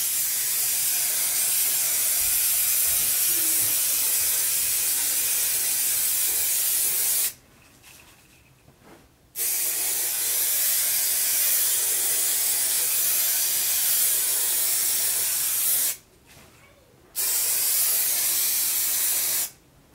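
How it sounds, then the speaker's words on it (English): Long continuous hiss of a spray can of adhesive used on dinette cushions, two extended bursts separated by short pauses, with a third burst starting at the end. "you do need to spray both surfaces that you want to stick"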